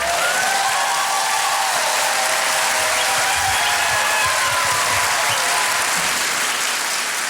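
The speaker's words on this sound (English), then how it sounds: "Huge round of applause, Drew" A crowd applauds steadily throughout at a live podcast taping, broad sustained clapping with a faint whistle-like tone drifting above it.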